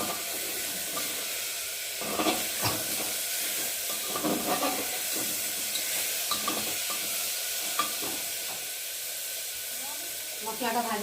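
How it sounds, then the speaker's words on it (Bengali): Masala of ginger paste, chopped tomato and turmeric sizzles and hisses in a pan for khichuri, with scrape-and-clink stirring strokes coming through near and clear. "দিয়ে একটু মশলাটা ভালো করে ভেজে নেব।"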